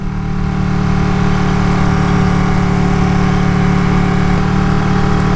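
Ducati 959 Panigale motorcycle engine droning steadily while riding, a loud continuous mid-pitched hum with wind noise, close to the rider.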